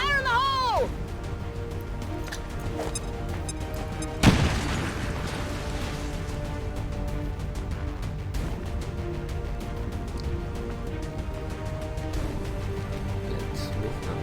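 Grenade blast in the tactical game XCOM 2: War of the Chosen, a single sharp boom partway through, set among low ambient game sounds and voices speaking around it.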